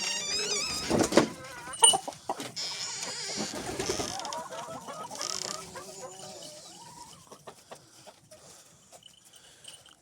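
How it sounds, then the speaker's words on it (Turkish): Several chickens cluck and squawk nearby in a busy farmyard jumble, with a few louder calls early on and softer clucking continuing after. "Tavuklarımız bunlar"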